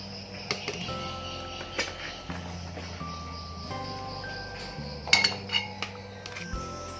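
Pieces of ginger for ginger syrup are dropped into a blender jar, giving light clinks and taps of glass and utensils scattered over several seconds, with a small cluster of sharper knocks near the end against a steady background hum.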